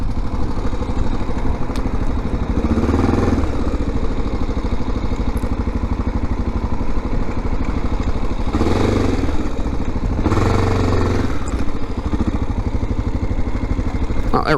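Honda XR650L single-cylinder motorcycle engine running steadily while riding, a loud continuous droning thrum with wind buffeting and a few swells in intensity, close to the rider.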